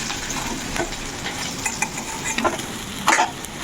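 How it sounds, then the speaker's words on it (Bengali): Large fish pieces fry in oil for Bengali fish curry, giving a steady close sizzle with scattered crackles and light utensil clinks as pieces are lifted out. "মাছগুলো ভাজা ভাজা হয়ে গেলে একটু লাল লাল করে ভাজবো।"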